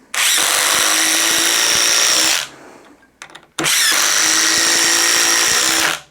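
A Ridgid impact driver on speed 3 sinks 3.5 inch deck screws into wood in two long, loud, rattling runs of about two and a half seconds each, with a brief pause and clatter between them.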